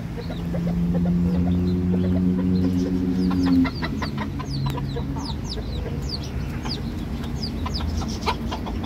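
A junglefowl and serama hen cluck close by while laying, opening with a sustained low droning call that breaks off after a few seconds into a run of short, sharp clucks, with no voices.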